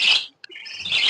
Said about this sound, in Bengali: নিচে আমার একজোড়া ককাটেল আছে